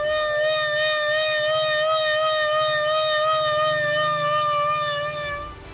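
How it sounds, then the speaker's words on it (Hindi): Danger warning sirens wail in Rawalpindi after fifteen hours of heavy rain, a loud steady multi-tone siren holding one pitch with a faint rumble beneath, fading out at the very end. "रावलपिंडी में मुसलसल 15 घंटे 230 मिलीलीटर बारिश के बाद खतरे के सायरन बज उठे"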